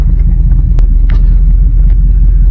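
Chevrolet C10 truck on its first drive in 17 years, giving a loud, close, continuous low rumble with a few faint clicks and rattles on top.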